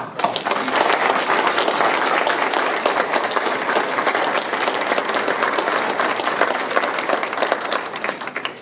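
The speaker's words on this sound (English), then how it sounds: "I'd like to give them a round of applause." Audience applause for an outgoing town council in Indian Head, Maryland: dense, steady clapping from a sizable crowd that holds loud and even for the whole stretch, easing slightly at the end.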